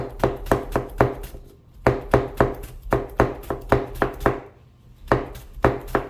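A knife julienning vegetables chops rapidly against a cutting board in quick rhythmic runs, pausing briefly between bursts, close and crisp.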